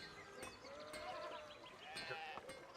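Sheep bleating in the medieval game Pentiment, wavering, tonal calls repeating through the clip at moderate level, with no talk over them.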